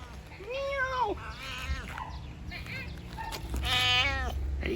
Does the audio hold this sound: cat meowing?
yes